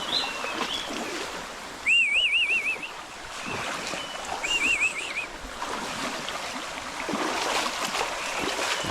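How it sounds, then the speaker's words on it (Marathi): Sparrows chirping in a forest, two short warbling bursts a few seconds apart, over a constant wash of rushing water. "आजूबाजूला चिमण्यांचा आवाज बघू शकता."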